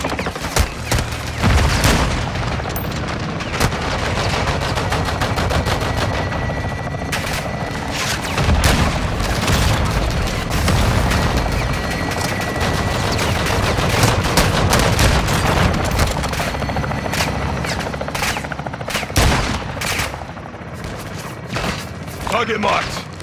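Sustained weapons fire in Call of Duty Modern Warfare 2 on a marked target: dense, loud bursts of gunfire and heavy booms rolling continuously, with radio-style voices talking over the barrage.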